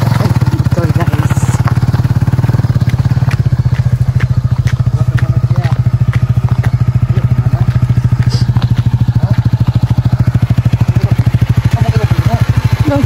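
A motorcycle engine idles and runs close by with a steady, rapid low thrum and some clatter, loud throughout, while people talk faintly in the background.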